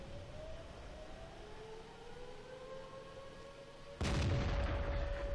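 A World of Tanks match on the Himmelsdorf map with a Centurion Mk 1 in play: a wavering, siren-like whine runs under a steady hum, then a sudden loud tank cannon shot bursts in and roars on to the end.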